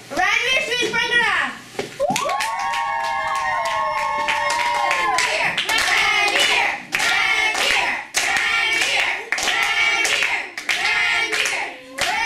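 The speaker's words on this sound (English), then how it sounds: "Why is the whole class applauding for him when I am the person who keeps dancing?" Classroom children clapping for a dancer, a dense run of applause in bursts with kids' voices and chatter mixed through, preceded by a sustained sung or tonal voice.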